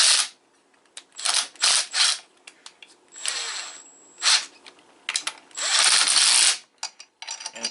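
A 1/4 inch impact driver runs a 1/2 inch bolt on a wheel puller centered over a shaft on a Jeep Wrangler TJ: loud, close bursts of rattling, hammering whirs in short repeated pulls with brief pauses, no talk.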